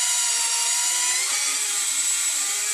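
A battery drill bores holes for runway lights, its worn batteries making it run a little weak; a steady high whine with dense upper harmonics holds for the whole stretch, close and loud, with no talk.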